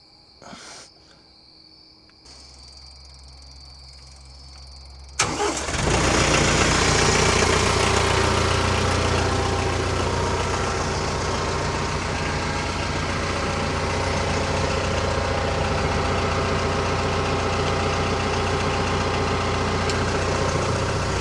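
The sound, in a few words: tractor engine idling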